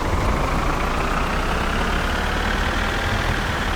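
Tractor engine in the game My Summer Car, a steady loud low drone running continuously without a break.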